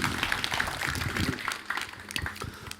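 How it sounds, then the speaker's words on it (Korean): An audience at a 2016 Gyeongbuk provincial disaster-response training event gives faint, continuous applause as an official is welcomed to the podium. "여러분 박수 부탁드립니다."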